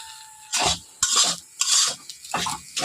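Spices and potatoes are stirred and fried in a pan over a low gas flame, giving close, rhythmic bursts of scraping and sizzling about every half second with short pauses between strokes.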